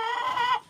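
A single chicken from a small backyard flock of crossbreed hens gives a short, close, nasal cluck, loud and clear with no talking over it.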